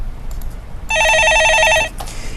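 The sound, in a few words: telephone ringing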